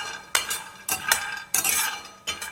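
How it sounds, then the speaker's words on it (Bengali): Almonds being dry roasted in a pan without oil or ghee, heard as a few separate bursts of rattling and scraping as the nuts are stirred, close and moderately loud with pauses between. "জাস্ট আমি ড্রাই রোস্ট করব, মানে শুকনো, কোনো তেল বা ঘি ছাড়া।"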